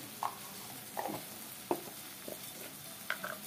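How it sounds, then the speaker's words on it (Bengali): Tomato fries quietly in a pan, a soft sizzle under several brief scrapes and taps of a spoon spaced through the moment. "আমার টমেটোটা অলমোস্ট ভাজা হয়ে গেছে।"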